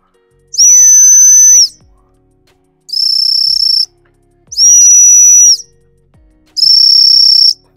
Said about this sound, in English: bit of demonstration of teaching the stop whistle